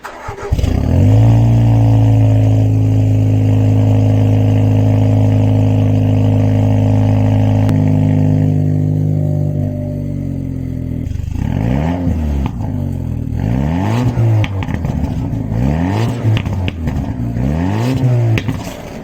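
A Mercedes-Benz E300 Coupé (C238) engine idles with a steady deep rumble, then revs up and down several times in rising and falling sweeps, loud and close.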